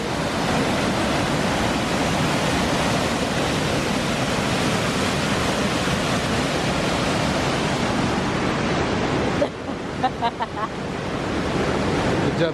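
Powerful rushing water roars steadily and loudly in a broad, unbroken wash, then briefly drops away before surging back.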